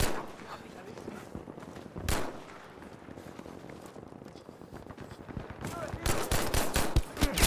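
Machine gun and rifle fire from the video game Battlefield V crackles in scattered bursts, building to a dense, loud volley of rapid shots near the end, with a voice speaking in between.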